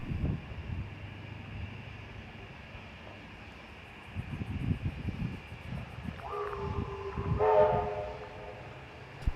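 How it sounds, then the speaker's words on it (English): Tinsel-decorated steam locomotive 3265 hauls the first Santa shuttle train from Buxton into Thirlmere, its low rumbling chuffs and rail noise building as it draws near, with a sustained whistle blast sounding loudly near the end. "Powerhouse Museum's locomotive 3265, all decorated in tinsel for the annual Santa steam train, is seen pulling into Thirlmere from Buxton with its first shuttle train for the day"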